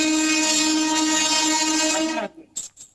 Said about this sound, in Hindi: यहाँ ट्रेन की आवाज काफी ज्यादा आ रही है